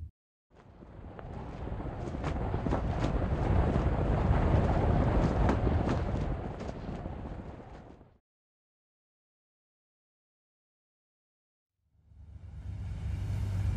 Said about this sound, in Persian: قایق بادبانی.